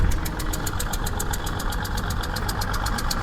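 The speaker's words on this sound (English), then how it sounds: "That's a very early AEC Mammoth chugging away in the background." An early AEC Mammoth truck engine chugs in a steady, low, rhythmic idle at a classic vehicle steam rally, with a faint regular ticking over the top.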